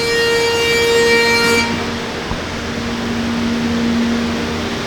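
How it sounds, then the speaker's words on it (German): A CNC router (Oberfräse) in a caravan factory hums with a steady harmonic whine that cuts off after about a second and a half, leaving broad workshop noise and a single knock. "das ist eine Oberfräse. Das ist eine CNC Oberfräse, ja."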